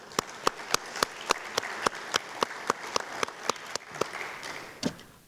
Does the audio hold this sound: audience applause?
yes